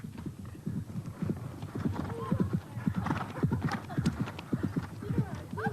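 A horse with a rider, stranded and unmoving, clip-clops its hooves and whinnies amid a steady crowd-like murmur, with hoof knocks repeating throughout and a brief neigh rising in the middle.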